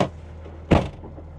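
A Land Rover Defender car door shuts with a single solid thud, close by, followed by a short fading rattle against a low engine hum.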